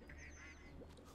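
A duck quacks in the Little Kitty Big City video game, a few quick quacks close up over a steady game soundtrack, with no talking.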